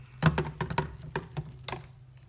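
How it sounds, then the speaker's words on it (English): Quiet splashing and dripping of plain water as a bar dispense valve is dipped and swished about to rinse, with irregular small patters over about two seconds. "Then into the plain water for a rinse."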